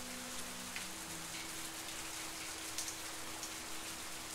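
Steady, soft rain patters continuously on surfaces in the Halloween horror game The Path, a quiet even hiss with faint drops and a low hum beneath.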